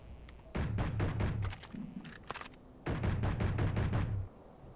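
A new pistol with recoil fires in Space Engineers on Xbox, Warfare 1 DLC: two quick volleys of rapid, punchy shots, each a run of about a dozen cracks, separated by a short pause.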